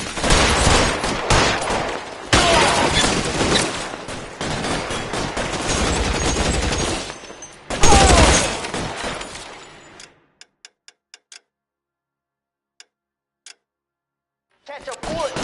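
Loud rapid gunfire bursts and shots in an L.A. Noire police shootout, heavy and dense for about ten seconds, then near silence with scattered faint ticks before noise returns at the end.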